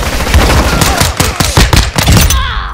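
Rapid bursts of gunfire hitting the player in Call of Duty: Modern Warfare II, loud close rattling shots in quick irregular volleys over under three seconds.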